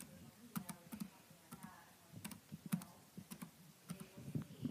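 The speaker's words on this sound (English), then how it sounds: "typing with one hand isn't very easy" Keys clack on a computer keyboard typed one-handed, irregular bursts of sharp clicks with uneven pauses, close and fairly quiet against a low background hum.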